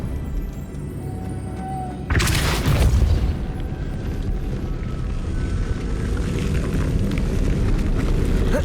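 In Hogwarts Legacy on Nintendo Switch, the Depulso spell is cast, with a sudden deep booming blast that rings out over steady game background noise and then settles into a sustained rumble.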